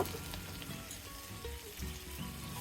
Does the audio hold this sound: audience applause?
no